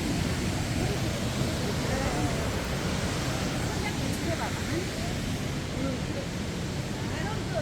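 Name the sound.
Sambuyeon waterfall in Cheorwon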